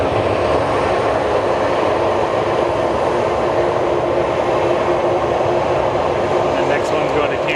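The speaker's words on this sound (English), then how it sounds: "Southwest taking off next. 381 going to Reno. 800 series." A four-year-old Southwest Boeing 737-800 takes off from a busy airport, its engines roaring in a loud, steady, broadband rumble that holds throughout without a break.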